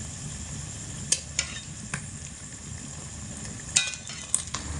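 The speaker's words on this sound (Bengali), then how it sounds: "এগুলোকে মিডিয়াম আঁচে রেখে ভাজতে হবে" Potato and paneer pieces fry in oil over medium heat, a steady soft sizzle broken by a few sharp clinks and scrapes as the pieces are stirred in the pan.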